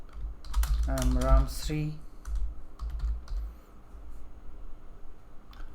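Typing on a computer keyboard: scattered light key clicks through the stretch, with a short spoken phrase near the start.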